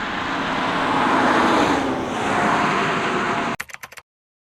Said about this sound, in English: There's another car.